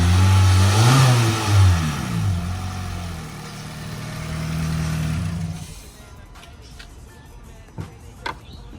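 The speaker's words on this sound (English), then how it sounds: "A little cold start before the intake." A 2019 Honda Civic Sport with a K20C2 engine cold-starts and revs hard, its loud close engine note rising and falling for several seconds before cutting off, leaving quiet ticks and a few faint knocks.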